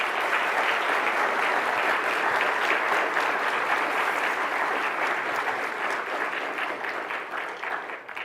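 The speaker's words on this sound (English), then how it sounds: "I'll be sure to share your applause with Brooke." Sustained audience applause at a scientific meeting plenary, a thick, steady roar of many hands that holds for several seconds before thinning slightly toward the end.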